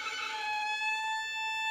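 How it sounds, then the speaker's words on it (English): A violin harmonic locks in and rings as a steady, pure high tone, sustained evenly and fairly close with no other sound around it. "just slightly move your finger until you hear it lock in, and it'll sound like this."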